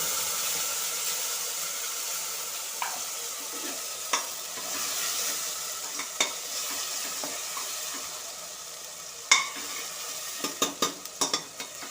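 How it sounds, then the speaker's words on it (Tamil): Ground mint gravy poured into a pressure cooker sizzles and fries steadily, with soft stirring scrapes and a few sharper clinks toward the end; no voices. "இப்போ இந்த குக்கரில் நம்ம அரைச்சி வச்ச கிரேவியை ஊற்றிடுவோம்."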